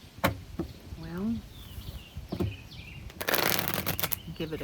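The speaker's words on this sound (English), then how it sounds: "give it a couple of shuffles" A brief burst of tarot cards being shuffled near the end, crisp and close, following a few soft taps and some speech.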